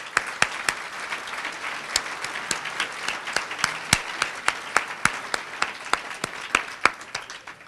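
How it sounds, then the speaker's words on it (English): A scattered audience at an anniversary gathering claps for someone, the applause sparse enough that individual sharp claps stand out over a soft, steady patter lasting several seconds. "like to have a big, big round of applause for Gloria Feldman for all that she does for us"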